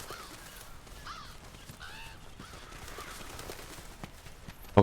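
Crows caw a few times in a game world, faint hoarse calls over a low rustling background.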